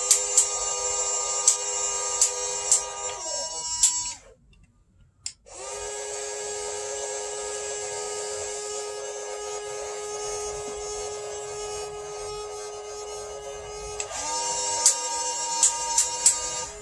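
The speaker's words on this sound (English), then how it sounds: "You can hear the winch clutch going, the lift clutch." A stock Huina 1572 RC excavator's winch clutch whirs steadily under load as it lifts a model dozer with a straight pull. The whine cuts out briefly, then resumes, with sharp clicks near the start and end.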